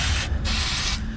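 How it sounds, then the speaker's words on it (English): Penetrating spray hisses steadily onto threaded parts under a 2021 Ford F-150 3.5 EcoBoost during a service, two close, continuous aerosol bursts separated by a brief pause. "Spray it on threads of things that you might have to undo in the future."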